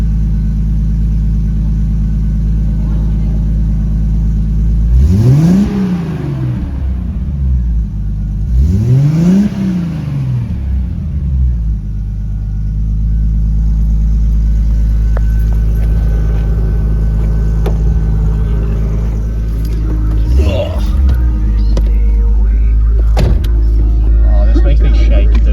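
A Nissan S13 engine idles with a steady low rumble, broken by two quick rising-and-falling revs early on and a shorter blip later, with voices talking over it.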